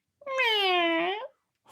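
A cat in a cast gives a single drawn-out meow, loud and close, rising then falling over about a second, with no talk around it.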